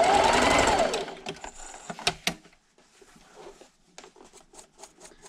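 A sewing machine stitches quickly off the corner of a fabric table runner made from 2 1/2 inch strips, a loud continuous run of stitching that stops abruptly and gives way to faint clicks and handling taps.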